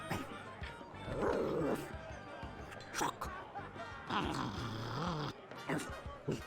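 A dog character in The Secret of Monkey Island video game barks and yips in short bursts, mixed with game sounds and some voice in the background.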